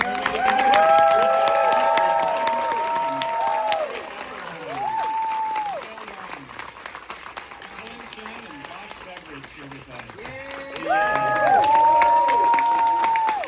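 Audience applause and cheering at an animation event panel, a loud burst that fades, swells briefly, dips low, then surges again near the end, with voices mixed into the crowd noise.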